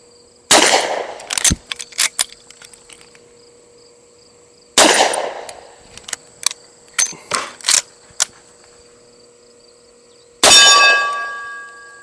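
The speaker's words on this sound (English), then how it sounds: "Let's aim at this steel target here a little bit." Three loud .44 Magnum shots from a GForce Arms Mare's Leg lever-action ring out several seconds apart, each followed by lever clacks and brass clinks. The last shot ends in a long, bright ring of steel from the target.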